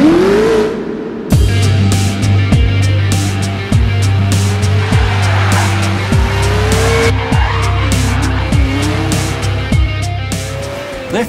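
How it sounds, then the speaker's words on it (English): A DR!FT model racing car drifts on a tabletop track, its motor holding a steady whine while the tires squeal almost continuously and close up, after a brief burst of noise at the start. "the world's first model car that performs with the same driving dynamics as a real racing car"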